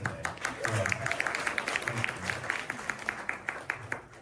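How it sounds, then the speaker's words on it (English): An audience at a community homeowner help desk event in Queens claps steadily throughout, a dense patter of many hands with a faint voice under it. "let's give yourself a round of applause for coming out today."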